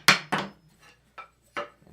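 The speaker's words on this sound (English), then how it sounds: "I'm just gonna gently tap it down with my hammer" Hammer gently tapping a part down onto a mountain bike suspension fork during a fork swap: four sharp, close knocks spaced unevenly, the first two loudest, with short gaps of quiet between them.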